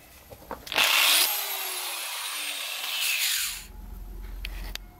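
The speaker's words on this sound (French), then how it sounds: "Maintenant qu'on a notre rondelle soudée là, je vais pouvoir guider ma mèche avec." A power drill bores through a washer welded onto a Maserati 3200 GT part, whining loudly at close range for about three seconds with a sweeping pitch, then dropping to a low rumble.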